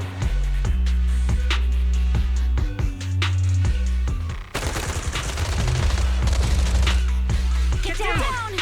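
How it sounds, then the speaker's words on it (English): Rapid bursts of gunfire during an armed ambush in a Zenless Zone Zero cutscene, loud repeated shots over a heavy musical score, with voices breaking in over the shooting. "Gunfire?"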